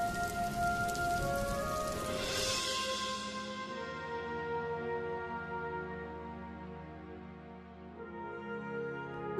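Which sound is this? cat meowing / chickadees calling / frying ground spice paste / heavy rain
heavy rain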